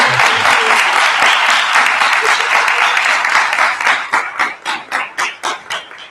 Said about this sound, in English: Can we all give them a great big round of applause?